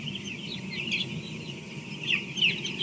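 Chickens on a poultry farm cluck and chatter together over a constant mechanical hum of a brooder, a busy flock heard at close range without any voices.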